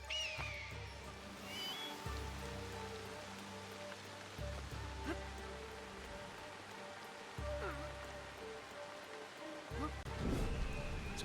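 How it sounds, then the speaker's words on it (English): Steady rain falling in the video game Assassin's Creed Shadows, a soft continuous patter with faint low rumbles and scattered ambient game sounds. "It's always raining at the moment."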